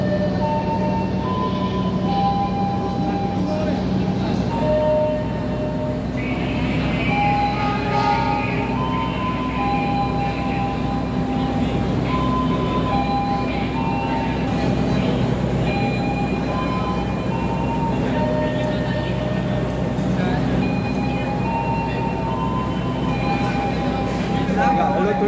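Train sounds at Surabaya Pasar Turi station platform, a loud continuous rumble with ringing tonal whines and hums throughout, steady and close.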